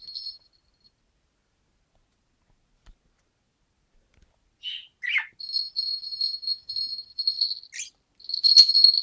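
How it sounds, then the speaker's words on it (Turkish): A small bird gives short high chirps and ticks close by, scattered and sparse at first and then coming in quick repeated bursts toward the end, in an otherwise quiet setting. "Küçük kuş."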